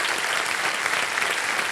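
An audience on a Hindi TV quiz show, Kaun Banega Crorepati, claps in steady, loud, dense applause that fills the whole moment without a break.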